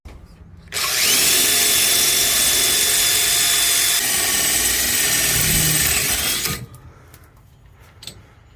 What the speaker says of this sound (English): Let's go get this thing drilled up there on top of the headache rack and bolt it in.